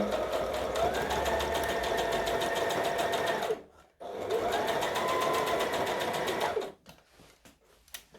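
A sewing machine stitches fabric for a Butterick B5655 top, running in two long steady bursts separated by a brief pause, then stopping with a few light clicks and handling sounds at the end.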